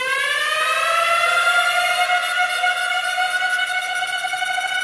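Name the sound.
J Dilla siren sound effect in a beat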